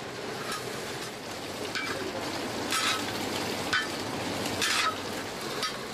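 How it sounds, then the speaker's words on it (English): Oil simmering in a wok at a makeshift gem-hunters' camp, a steady soft hiss and crackle with faint scraping clicks scattered through it, moderately quiet and continuous. "Only when the oil simmers in the wok does the atmosphere mellow."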